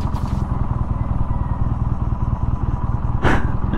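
BMW R nineT Urban GS motorcycle engine braking on a steep downhill, a steady loud rumbling exhaust with rapid firing pulses throughout, plus a brief burst of wind or road noise near the end.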